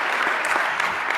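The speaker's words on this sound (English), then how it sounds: "Yeah, clap, because it ain't easy." Applause from the audience at a university athletics hall of fame ceremony, a short burst of dense, steady clapping heard close and clear.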